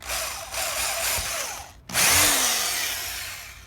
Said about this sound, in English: we're just gonna drill a bit of a pilot hole